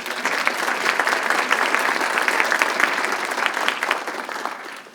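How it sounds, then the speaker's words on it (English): Steady audience applause from a seated crowd at a morning community program, sustained and even for about five seconds with no talking. "Please join me in a round of applause for all of them."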